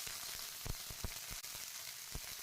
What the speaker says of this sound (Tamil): கத்திரிக்காய் இந்த எண்ணெயிலேயே கொஞ்சம் நேரம் நல்லா வதங்கணும்.